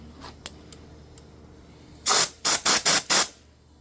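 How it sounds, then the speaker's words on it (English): An aerosol can of WD-40 or alcohol cleaner sprays into the hand grip area of a Can-Am Ryker motorcycle in five loud, close hissing bursts, the first longer, after a few faint clicks. "You can spray some WD-40 or some alcohol in there."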